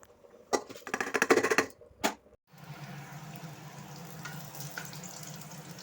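Water poured onto a dried-out money plant, a splashing trickle in irregular bursts for about two seconds, then a brief pause before a steady low background hum.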